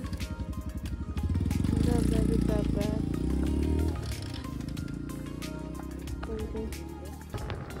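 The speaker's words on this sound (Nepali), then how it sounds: "त्यो दाइको बाइक पल्ल बनाएर स्टार्ट गरेर दिएर अनि बल्ल हामी त निस्केको" A motorcycle that had fallen into a stream and been pulled out runs close by, on a road tour in Nepal's Sindhuli area; its engine rises to a loud, throbbing rev, then settles into a steadier running drone with faint voices around.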